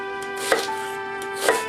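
Knife chopping a peeled onion on a board, two separate crisp cuts about a second apart, close and quiet over a faint steady background hum.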